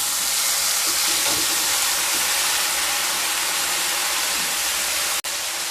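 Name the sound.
marinated paneer added to hot spiced oil and stirred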